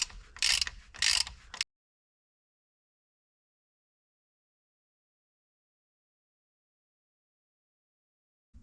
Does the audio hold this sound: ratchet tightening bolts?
yes